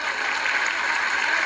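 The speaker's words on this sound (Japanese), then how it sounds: "もう一回拍手しましょう。" Sustained audience applause at a 1988 professional wrestling memorial event in Ryogoku, greeting Tiger Mask and Satoru Sayama; steady, dense clapping fills the hall at moderate level without pause.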